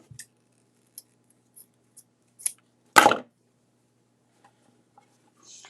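Scissors cut craft material in a quiet room. Several faint snips come first, then one louder, longer cut near the middle, followed by a few tiny clicks.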